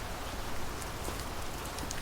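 Rain falls steadily, a constant gentle hiss with scattered drips and taps on a nearby surface, and no voices.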